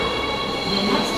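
Train pulling into a platform, a steady mid-level rumble and hum of the arriving carriages held evenly throughout.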